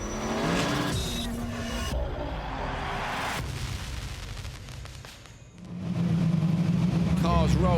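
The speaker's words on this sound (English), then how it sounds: "Cars rolling up to the grid." Rallycross cars at the World RX of Finland round roll up to the start grid, their engines droning and revving nearby, with a swell of louder engine noise near the end and crowd or commentary mixed beneath.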